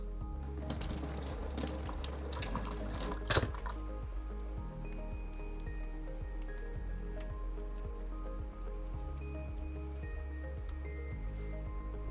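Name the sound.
hot water poured over raw chicken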